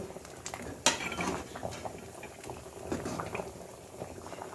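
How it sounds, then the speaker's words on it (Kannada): A pot of pineapple gojju bubbling and simmering steadily at close range, with a sharp clink of metal near the start and soft rattles of cookware. "ನೋಡಿ ಇದು ಕುದೀತಾ ಬಂತು"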